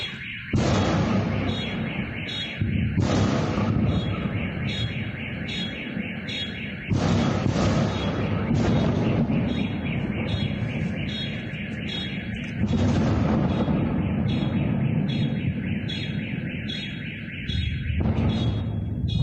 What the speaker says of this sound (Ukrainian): ви чули ці вибухи в темряві